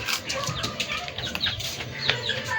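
A chicken beats its wings in rapid, rough flurries and gives short clucks, close by and fairly loud, with some scattered background noise.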